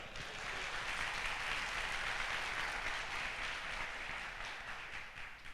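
A church congregation at a Baptist Sunday service applauds in praise of the Lord, a dense, continuous patter of many hands that holds level and moderately quiet throughout.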